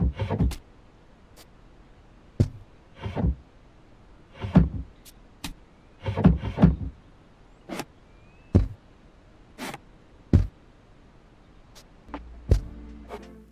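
Gameplay from the cozy video game Unpacking: a sparse run of isolated clicks, taps and soft thuds of objects being handled and placed, each short and crisp with quiet gaps between, plus a brief low hum near the end.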